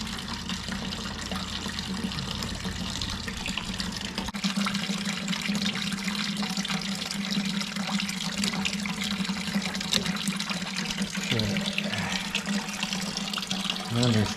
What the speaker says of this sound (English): We'll let that drain into the bucket there